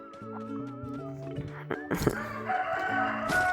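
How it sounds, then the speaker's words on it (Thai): A rooster crows close by, its long harmonic call loud over a steady background of other tones and clatter. "โอ้ยไก่มึงร้องบ่อยจังวะ"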